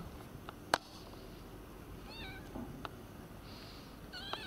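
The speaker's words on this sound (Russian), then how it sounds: "Да, это чужая кошка." A cat meows several times at a distance, short rising calls spaced apart with a sharp knock near the start, over a low, steady outdoor background.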